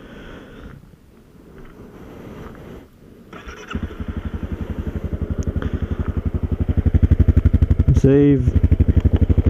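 A Honda CRF250L motorcycle engine pulling away and revving up while riding, a rhythmic, rising thump that grows louder, with a brief voice near the start.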